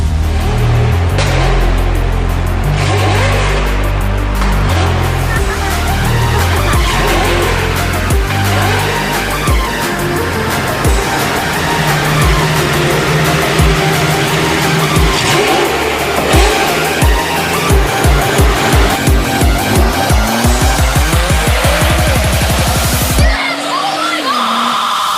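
Race cars roar and rev loudly, engine pitch sweeping up and down in repeated passes with a brief squeal near the end, and voices mix in.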